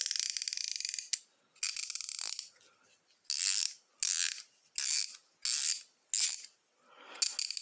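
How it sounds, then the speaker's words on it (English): Bursts of fast, bright clicking from a 90-tooth swivel head ratchet, several short runs with pauses between, close and crisp with no talking. "drive swivel head ratchet, 90 teeth"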